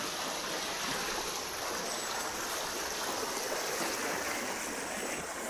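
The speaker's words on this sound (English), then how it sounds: "It is the biggest river here in Tutin." The biggest river in Tutin rushes past in a steady, even wash of flowing water that holds at a constant level throughout, with no voices over it.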